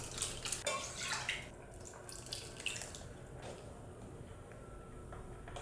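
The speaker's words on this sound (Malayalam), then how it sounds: "ഇതിലേക്ക് ആവശ്യത്തിന് വെള്ളം ചേർത്ത് കൊടുക്കാം." Water is poured into a pan of tomato mango curry, a soft running splash and trickle that fades to gentle bubbling, quiet and close.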